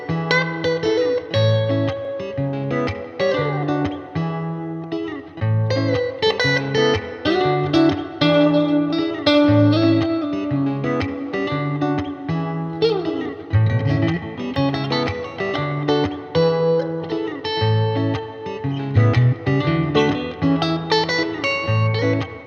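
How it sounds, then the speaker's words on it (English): An electric Strat plays through a 5-watt all-valve Honeyboy amp with a Strymon Flint adding tremolo and reverb. Chords and notes ring out steadily and loud, with a pulsing shimmer and wash throughout, and no talking. "I've paired it with a Flint from Strymon, which gives it the tremolo and the reverb that I love."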